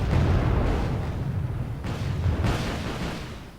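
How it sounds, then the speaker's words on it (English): A volley of missiles in the video game Wargame: Red Dragon produces loud, rolling booms and rumbling blasts that swell and fade over a few seconds. "Here's another volley of missiles."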